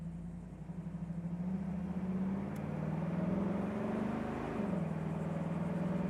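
A 1968 Chevrolet Camaro convertible engine pulling while driving, a steady low drone that rises slightly in pitch as it accelerates through a corner, then dips briefly before carrying on.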